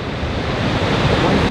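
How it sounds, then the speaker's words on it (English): Large ocean waves surge and crash at Thor's Well on the Yachats, Oregon coast, a loud continuous roar of surf mixed with wind buffeting the microphone. "Those waves out there are getting huge, aren't they, Blaine?"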